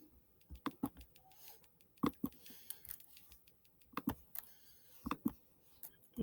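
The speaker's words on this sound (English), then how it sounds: "In Desmos, I'm going to type in my function." Fingers tap out a math function on a computer keyboard, producing quiet, irregular clicks in short bursts with brief pauses between keystrokes.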